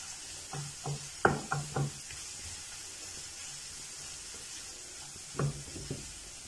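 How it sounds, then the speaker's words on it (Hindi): Cabbage and mixed vegetables for a chicken egg roll filling are tossed in a hot pan, giving a steady soft sizzle with several sharp spatula scrapes in short bursts near the start and again near the end. "इन तमाम सब्जियों को हमने मिक्स करना है।"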